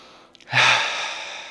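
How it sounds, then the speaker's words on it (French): A slow, deep breath during a guided relaxation session, a brief nasal intake followed by a louder, sustained airy exhale through the mouth, close and alone with no talking. "on essaye de reprendre une respiration par le nez et souffler par la bouche"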